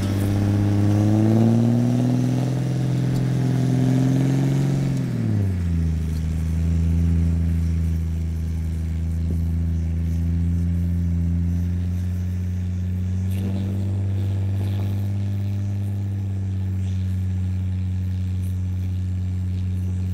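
An off-road vehicle engine with diff lock engaged drives to free itself from being stuck, a steady loud mid-pitched drone that drops in pitch after a few seconds and then holds a rumbling, continuous tone.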